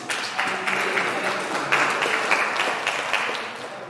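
Audience at a school long service awards ceremony applauds steadily, a dense wash of clapping that stays even and fairly loud from start to finish.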